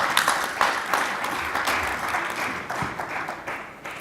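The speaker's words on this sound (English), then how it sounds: "Please give him a warm round of applause." A conference audience applauds at an entrepreneurship session, a moderate, steady patter of many hands clapping that tapers slightly, heard from within the hall without talk over it.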